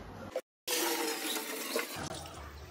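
Water from an old aquarium is poured back into the tank, a close, splashing gush that cuts out briefly after a bump and then resumes before tapering off.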